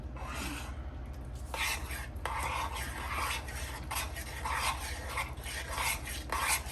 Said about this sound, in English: as you're stirring it, it'll start to get a little bit thicker